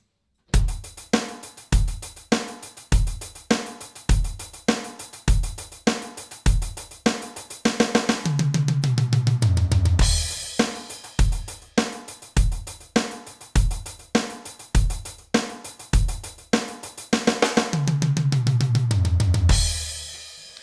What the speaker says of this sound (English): when you play it with two sticks on the hi-hat, like a single stroke roll